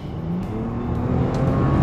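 A Bentley Continental GT's twin-turbo W12 engine pulls hard under acceleration, a loud, smooth, rising drone with climbing tone heard from inside the car, no talk.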